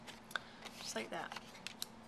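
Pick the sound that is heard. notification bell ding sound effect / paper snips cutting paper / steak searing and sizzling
paper snips cutting paper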